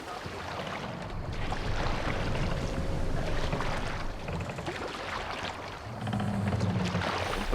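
Oars splashing and water rushing around a Viking longship being rowed at sea in Assassin's Creed Valhalla, a steady churning wash with wind noise, broad and continuous with faint rhythmic strokes.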